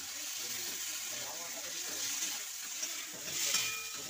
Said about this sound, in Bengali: এভাবে আমরা ভালো করে কষে নিলাম, সুন্দর করে কষে নিচ্ছি